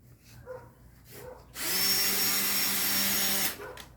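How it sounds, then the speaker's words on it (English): A power drill bores pilot holes into wooden cabinets, making a steady high whine for about two seconds between quieter pauses. "we're just putting little pilot holes in that we can then put the screws in"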